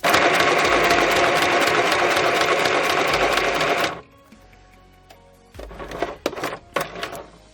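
A sewing machine runs a steady, loud zigzag stitch through a junk journal pocket for about four seconds, then stops; after a quiet pause come a few short, uneven bursts of stitching.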